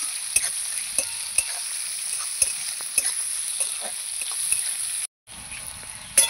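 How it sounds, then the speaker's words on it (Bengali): Half-fried onions hissing in a pan for chicken posto, with a bright continuous sizzle broken by regular spoon scrapes and taps. It is close and loud and cuts out briefly near the end. "পেঁয়াজগুলো ভালো করে নাড়াচাড়া করব।"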